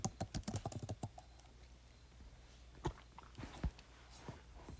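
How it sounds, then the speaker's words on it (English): A player's name is typed on a computer keyboard in a quick burst of close, crisp key clicks. A few scattered taps follow after a pause. "then you type in your player's name"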